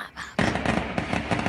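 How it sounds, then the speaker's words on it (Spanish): Gunshots and fireworks burst at night during a narco wake, a loud, close string of rapid cracks and pops that begins abruptly and keeps going in an uneven volley. "Disparos y fuegos artificiales, ráfagas sin control por más de 6 horas continuas."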